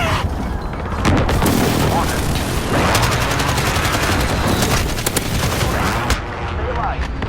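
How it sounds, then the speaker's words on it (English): Rapid booms and gunfire-like blasts of a precision airstrike in Call of Duty: Modern Warfare, loud and continuous for several seconds, with in-game voices underneath. "precision airstrike incoming"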